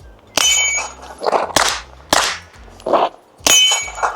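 A suppressed PSA Dagger Sabre rifle fires four or five spaced shots, each a sharp crack followed by a ringing clang from a steel target or a duller thud into dirt, close and distinct.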